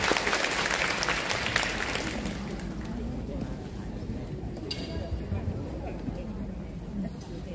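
An audience at a children's singing contest final at a municipal school in Kalasin, Thailand, applauds in a dense, steady burst of clapping that stays loud at first and then thins slightly but continues throughout.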